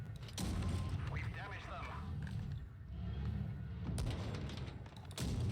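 Heavy tank cannon blasts in World of Tanks Blitz, from a Cromwell B, boom a few times, loud and sudden, while someone talks over the game noise.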